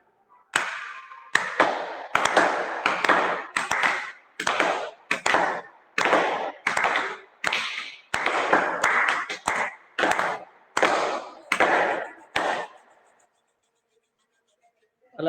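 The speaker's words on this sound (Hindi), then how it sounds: "और बजा लेते हैं ताली।" A group claps hands together during an outdoor yoga session: about fifteen loud, sharp bursts in a loose, not quite unison rhythm over twelve seconds, then silence.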